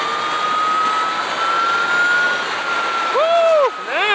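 An Energica Eva electric motorcycle rides along a road with a steady whine that rises and falls, mixed with wind rush and a loud, close rolling roar.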